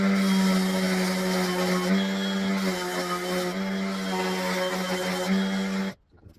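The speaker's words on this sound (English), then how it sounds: "And then I add a bit of sanding because I love the noise of the sander." A power sander running steadily on a wooden picture frame in a woodworking project, with a loud close whine that shifts slightly in pitch as pressure changes, then switches off near the end with faint handling sounds after.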